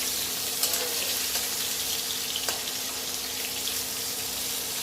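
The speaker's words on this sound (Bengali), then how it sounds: "আর এই মাছ ভাজা তেলের মধ্যে এই আলু কেটে রেখেছিলাম, তো আলুটা দিয়ে দিলাম। আলুটা একটু হালকা লালচে ভাজবো।" Cut potatoes sizzling in leftover fish-frying oil in a home kitchen pan, a steady close hiss of frying with a faint low hum underneath and no talking.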